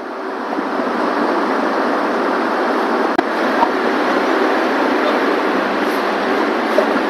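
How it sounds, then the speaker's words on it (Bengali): Broadband rumble and rolling hiss of a Dhaka-to-Rangpur train slowly pulling out of a station, steady and moderately loud throughout, with faint distant voices beneath. "আস্তে আস্তে বেরিয়ে যাচ্ছে ট্রেন।"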